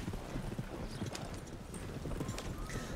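Horse hooves clip-clop steadily in the RedM western roleplay game, a dense continuous patter of hoofbeats at moderate loudness running throughout without speech.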